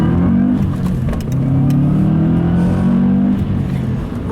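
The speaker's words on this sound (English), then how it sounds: "I'm going to drive this car around for a little while longer here" 2005 Subaru Legacy GT driving and accelerating, heard from inside with a loud steady engine drone rising in pitch, a faint voice briefly underneath.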